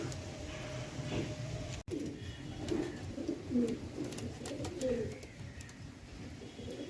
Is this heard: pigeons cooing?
yes